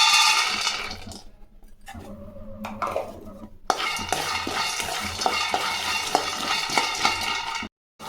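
Peanuts dry-roasted in a pan without oil, rattling and scraping continuously under a stirring spoon with occasional metallic clinks, close and fairly loud, briefly cutting out near the end.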